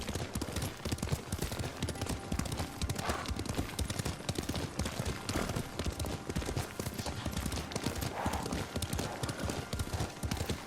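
Horse hooves galloping in the video game Ghost of Tsushima, a fast, continuous rhythmic clatter of hoofbeats that stays loud and close throughout.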